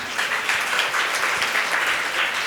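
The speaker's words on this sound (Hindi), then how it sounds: "जोरदार तालियां बजाइए।" A large audience at a Jain religious class in Pune claps loudly and steadily. The dense, even applause runs continuously throughout with no break.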